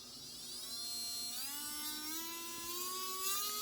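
Small electric motor from a Rivarossi model steam locomotive whirs steadily close by, its pitch rising partway through as it speeds up, with no voices.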